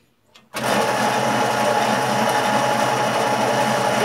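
A homemade motorcycle engine, built from scratch, starts abruptly after a brief quiet moment and then runs steadily with a loud, even buzzing drone close by.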